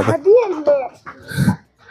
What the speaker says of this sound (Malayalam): എവിടെ പോയാലും ഡോഗ്സിനൊരു കുറവില്ലല്ലോ